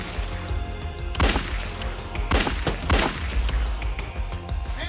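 Gunshots from a .357 Magnum standoff with FBI officers, three sharp loud bangs spaced about a second apart over a rumbling background, with no talking.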